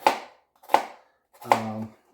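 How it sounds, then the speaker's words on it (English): Knife chopping an onion into chunks on a board: three sharp, close chops spaced about three quarters of a second apart, with a faint hum under the last one. "I'm not really dicing it. I'm just kind of chopping it."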